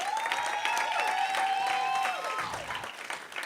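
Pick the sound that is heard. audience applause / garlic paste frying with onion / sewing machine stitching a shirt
audience applause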